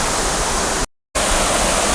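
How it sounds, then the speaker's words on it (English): A small waterfall near a cave in Gambita, Colombia, gives a loud, close, continuous rushing roar of falling water, broken by a sudden moment of total silence partway through before the roar returns unchanged. "So that's a nice little waterfall right there."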